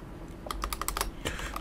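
Quick bursts of keystrokes on a computer keyboard while code is written, close and fairly quiet, with uneven clusters of taps and short gaps.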